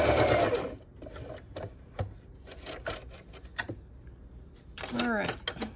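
Sewing machine running a quarter-inch seam along the edge of patchwork fabric, a loud steady whir at the start, then quieter intermittent stitching bursts and a final run, with a voice talking between.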